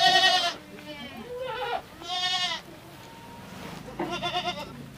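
A young goat about three to three and a half months old on a Rajasthan goat farm bleats several times in close, loud wavering calls, with brief gaps and people talking nearby.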